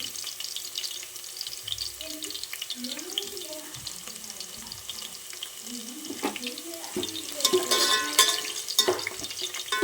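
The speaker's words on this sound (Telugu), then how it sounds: "ఇక్కడ అదే ఉల్లిపాయ కరివేపాకు వేసేసి అయితే కొద్దిగా ఉల్లిపాయ ఎర్రగా అయిన తర్వాత" Onion and curry leaves frying in a pan for fish curry, a soft crackling sizzle with hissing bursts, heard under intermittent talking.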